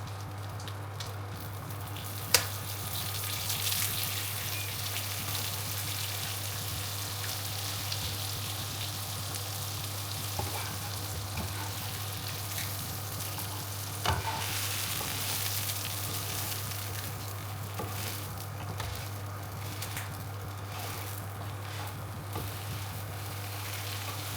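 Cordons bleu frying in bubbling butter in a pan, a steady soft sizzle and crackle running throughout alongside a constant low hum, with one brief sharp click near the start.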